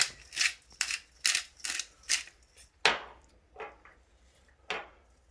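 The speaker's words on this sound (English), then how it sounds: "So we're going to crack some pepper." Peppercorns being cracked over a beurre blanc sauce in a kitchen: a run of sharp, close grinding crunches in a steady rhythm, then a few more spaced-out cracks, with no talk over them.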